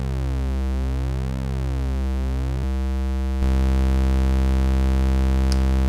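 Lowest note on a Roland Alpha Juno synth fitted with a Retroaktiv MPG-50 programmer, a deep, buzzy sustained drone with a sweeping, shifting harmonic texture that changes tone partway through, steady and loud.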